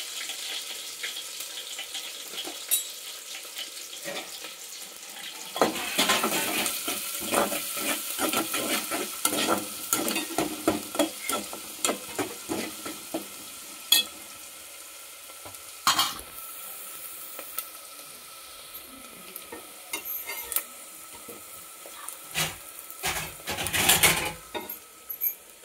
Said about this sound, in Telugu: ఉల్లిపాయలు పచ్చిమిరపకాయలు బయట కూర వండుతున్నాం